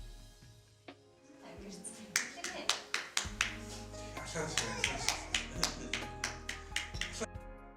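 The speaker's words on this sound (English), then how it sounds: "This 8-month-old baby is imitating his mother clapping her hands." An 8-month-old baby and his mother clap their hands, a run of sharp, quick claps that starts sparse and settles into a fairly regular rhythm, close and crisp.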